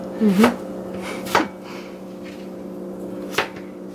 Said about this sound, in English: I'm cutting the potatoes into about 1-inch pieces